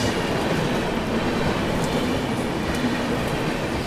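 The Patna Tejas Rajdhani Express rushing past at a crossing, a loud, steady roar of carriages with rhythmic wheel clatter and faint metallic squeals throughout, no talk.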